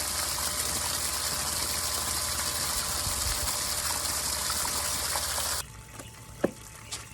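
GAME Sandpro 75D pool sand filter pump running on rinse, a steady loud whoosh of churning water that stops abruptly, followed by quiet hum and a couple of small clicks.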